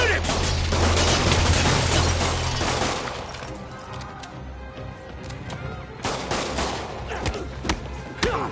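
Criminals open fire in Marvel's Spider-Man, a loud fusillade of rapid overlapping gunshots and cracks that thins out after a few seconds into scattered shots, with sharp impacts near the end; no clear speech over it.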